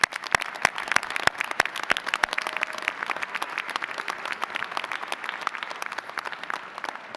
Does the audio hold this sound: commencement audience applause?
yes